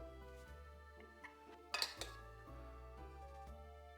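A plate clinks against dishes as it is lifted for serving asparagus hollandaise in a kitchen, one sharp ceramic knock standing out over a quiet, steady background hum.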